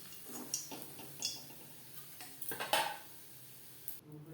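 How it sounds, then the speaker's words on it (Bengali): Fried fish being lifted from the pan into a bowl, with metal utensils and the pan clattering in a string of sharp, close clinks and knocks at an uneven pace, no voices. "মাছ ভাজা হয়ে গেছে, একটা পাত্রে উঠিয়ে নেব।"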